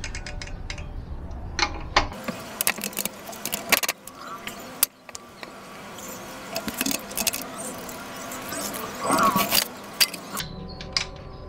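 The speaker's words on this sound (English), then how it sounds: "Okay, so first we need to remove the rear wheel." Rear wheel of a Trinx Dolphin 2.0 folding bike being removed, with scattered metallic clicks, rattles and clanks of parts and tools, close and intermittent over a low background hum.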